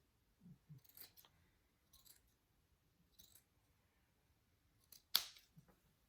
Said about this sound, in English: And then you want to trim the seams too.